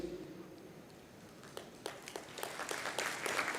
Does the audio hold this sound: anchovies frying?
no